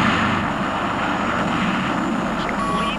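An FA-18 Hornet jet in a flight simulator game roars steadily at takeoff power, a loud continuous engine rumble and whine that holds constant throughout, with a faint high tone near the end.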